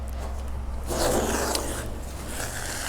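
Two-inch masking tape tears off its roll in a raspy, sustained strip, loudest around the middle, while laying lines on a 1960-66 Chevy or GMC truck bed side, with a steady hum underneath.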